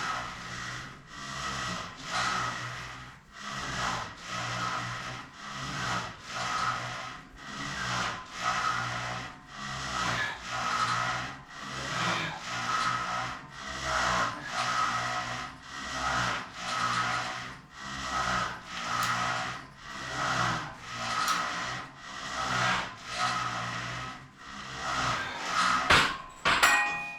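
Gym cable pulleys caught in a bind grind and rasp in repeated rhythmic strokes, each pull rising and falling, with no talking.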